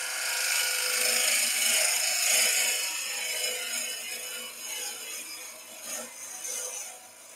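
A wood lathe spins green oak while a gouge cuts into it, giving a continuous loud shearing, rasping hiss that rises and falls slightly as the tool moves across the wet wood.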